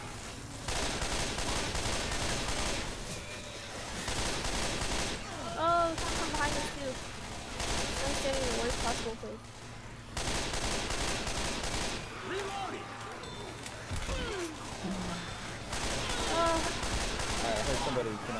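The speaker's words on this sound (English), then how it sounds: "Everybody shoot towards their feet, so you don't accidentally shoot each other." Rapid bursts of gunfire crackle almost nonstop in a zombie shooter game, with several players firing at once in dense volleys and brief lulls, while a player talks over the shooting.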